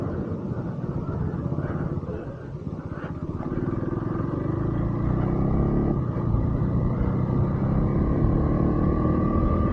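A KTM Duke 390 motorcycle engine drones steadily while riding, a continuous loud rumble with wind noise that rises slightly in the second half.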